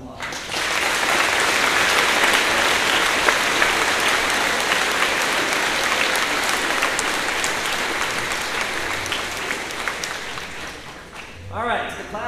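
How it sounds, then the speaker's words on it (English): Audience applause at an 8th grade promotion ceremony, a broad, steady wash of clapping from a large crowd that carries on for about eleven seconds before tapering off, with a short burst of voices near the end. "let's give them a round of applause"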